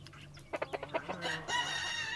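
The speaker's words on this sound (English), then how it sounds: "The rooster screeches." A rooster crows nearby, a series of short clucking bursts building into a long, strained crow that trails off.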